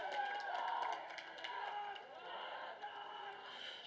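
A boisterous home crowd cheers and claps steadily through a night high school baseball game at Frazier Field, with a broad, sustained wash of voices and no pauses.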